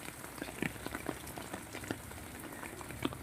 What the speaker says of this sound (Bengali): তা তোমাদের কেমন লাগছে বৃষ্টি